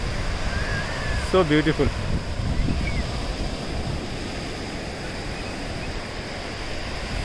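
Surf washes onto the beach at Madh Island near Mumbai as a steady, broad roar mixed with gusty wind buffeting, while a person speaks briefly near the start.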